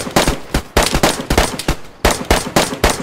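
Gunfire in the DayZ video game, loud close bursts of several sharp shots in quick rhythmic groups, separated by short pauses, with no talk over them.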